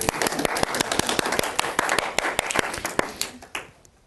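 Audience at a storytelling event claps steadily, sharp individual claps close by over a fuller wash of applause, tapering off near the end.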